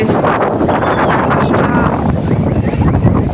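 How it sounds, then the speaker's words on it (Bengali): Strong sea wind buffets the microphone on Digha beach in rainy season, a loud continuous rumbling roar with surf-like wash behind it, steady throughout with no clear talk. "সমুদ্রের উত্তাল হাওয়া, ভালোই হাওয়া দিচ্ছে বলো"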